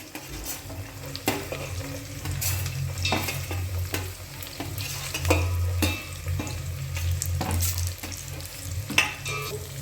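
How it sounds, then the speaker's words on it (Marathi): Garlic and peanuts frying in hot oil, a steady close sizzle with repeated clinks and scrapes of a spoon stirring the pan throughout. "तर हे आपल्याला गोल्डन ब्राऊन व्हाईपर्यंत फ्राय करायचं आहे. तर आता आम्ही टाकत आहोत लसूण, शेंगदाणे"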